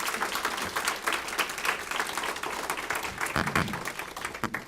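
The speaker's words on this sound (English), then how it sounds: "Can you please give them a round of applause" Sustained round of applause from an audience at a university dedication ceremony for a distance education museum and café, dense steady clapping filling the room for the whole stretch with no break.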